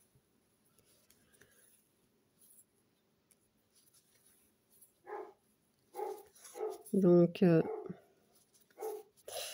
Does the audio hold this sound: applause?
no